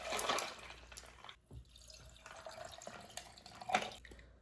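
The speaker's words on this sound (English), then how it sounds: "Pour the coffee into the ice." Coffee poured over ice for an iced coffee, a close liquid splash and trickle with small drips and clinks, running a few seconds with a brief pause partway through.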